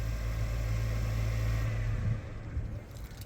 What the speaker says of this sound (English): and the car just now shut off